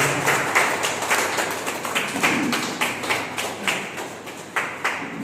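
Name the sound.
audience applause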